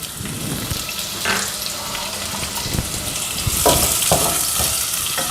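Steady sizzle of chopped onions frying in hot oil, with occasional stirring clinks and a brief splash of running water; no talking.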